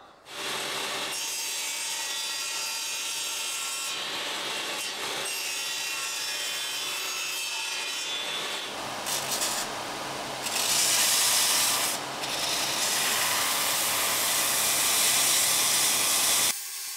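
Hand saw cutting wood to trim a guitar headstock veneer square, steady close rasping strokes running continuously and loudly, growing harsher and brighter partway through, with no talking.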